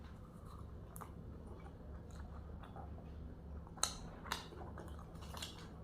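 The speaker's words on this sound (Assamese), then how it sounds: "মিক্স ভেজ অলপ খাই চাওঁ" Someone eating lachha paratha with mixed vegetables as hospital food, with quiet close-up chewing and a few sharper bites or utensil clicks over a low background hum.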